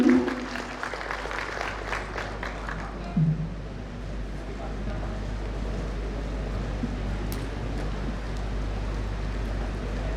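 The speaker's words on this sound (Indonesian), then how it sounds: "Boleh kita berikan tepuk tangan yang meriah Bapak Ibu sekalian." Applause from the crowd at an official opening ceremony for National Archives Day in Riau, a short burst of clapping at the start that quickly fades into low room hum and faint background noise.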